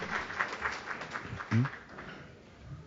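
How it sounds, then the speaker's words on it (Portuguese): An audience at a Latin American and Caribbean theology and spirituality congress claps faintly in a reverberant hall, a soft patter that thins and fades after a few seconds. "agradecemos también con este aplauso a Andrea Sánchez Ruiz"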